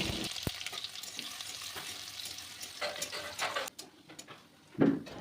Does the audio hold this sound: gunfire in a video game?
no